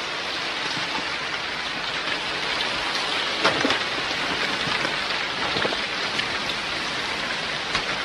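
Heavy rain pours steadily through a forest as a dense, even hiss, with faint low rumbles of distant thunder rolling underneath, continuous and without voices.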